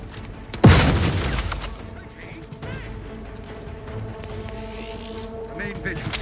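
A grenade blast in The Outer Worlds 2 hits as one loud close boom and crash early on, then fades into a rumbling tail under game sounds and voices.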